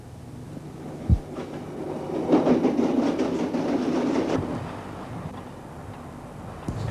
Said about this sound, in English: this Class 47 had arrived at the junction with a train of molasses and was about to proceed towards Leicester